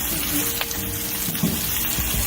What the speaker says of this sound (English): Let's add the garlic.